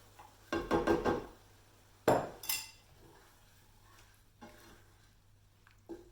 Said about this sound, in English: I'm just going to add this in and just give it a big stir